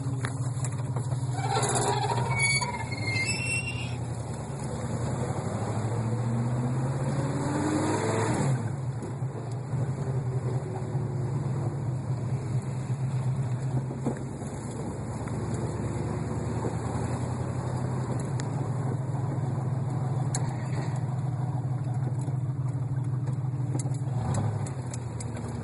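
A 1982 Mercury Capri RS with a detached muffler runs loud and close, its raw, unmuffled exhaust droning steadily with a few rev swells near the start and midway, no talking.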